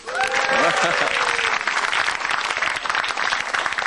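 A stand-up comedy audience claps loudly, a dense burst that gradually thins out, with a voice briefly audible at the start.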